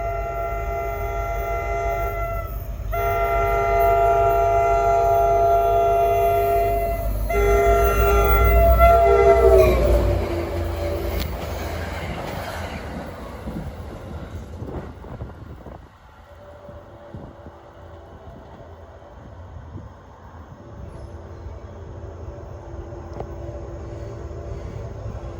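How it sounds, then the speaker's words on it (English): An NJ Transit train led by a GP40FH-2 locomotive barrels through Ramsey station, its rough, harsh horn blaring loudly for several seconds before the heavy rumble of the passing cars fades to a quieter roll. "that was the most unhealthiest horn I've ever heard"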